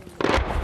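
Distant artillery fire on the front lines in the Donbass, heard as a single deep, booming burst that rumbles on briefly after the initial blast.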